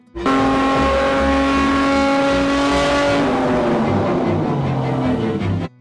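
A flood-damaged, overheating Porsche 911 GT3 RS engine runs very loud and close, holding a steady high drone before the pitch sags and roughens, then cuts off abruptly.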